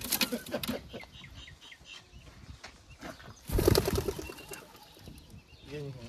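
Racing pigeons in a New Zealand loft after a 600 km race with a sea crossing, giving soft cooing and bursts of wing flapping, with a louder flurry midway and faint muffled voices in the background.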